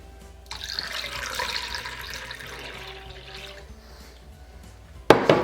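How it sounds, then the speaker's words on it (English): Cold water poured into a bowl of dissolved jello mixture, a soft continuous splashing and trickling pour for several seconds that tapers off, followed by a sharp clatter at the end. "So now we will add in our cold water."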